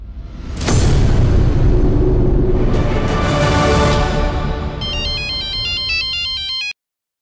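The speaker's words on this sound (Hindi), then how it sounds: "किसका फोन है?" Phone ringing in a crime drama scene: a loud rumbling, booming burst gives way to a bright electronic ringtone melody of repeating tones, which stops abruptly into silence.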